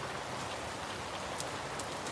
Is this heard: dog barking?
no